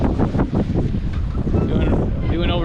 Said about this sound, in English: Got them 20 knot gusts coming in as soon as we get out the channel here.